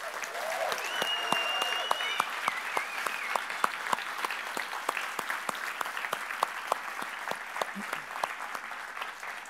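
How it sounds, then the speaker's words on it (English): An audience at the Boost Camp opening keynote gives sustained applause, a dense, even patter of many hands clapping in a large room, with a brief whistle-like tone near the start. "maybe we can kick off with a really big applause, but also some cheering"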